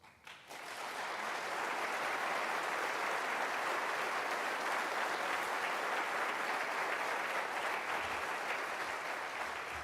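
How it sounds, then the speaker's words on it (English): A large audience at an Army retirement ceremony for a Sergeant Major applauds general officers, a dense, steady wash of clapping that swells in quickly and holds loud and even for nearly ten seconds. "could we please just give a round of applause for our general officers"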